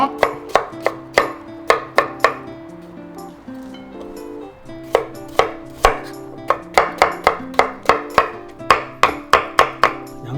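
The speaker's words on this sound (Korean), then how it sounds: "칼로 썰었을 때가 좋더라고요" A knife chops cucumber on a cutting board for a chilled cucumber and seaweed soup. Quick, crisp strikes come in steady bursts, pause briefly partway through, then resume over faint tonal background music.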